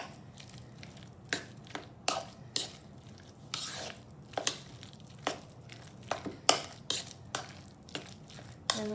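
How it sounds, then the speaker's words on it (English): Guacamole ingredients being stirred together in a bowl: a soft, uneven series of wet squishes and light taps of the utensil against the bowl, close and fairly quiet, with no talking. "Stir it all together."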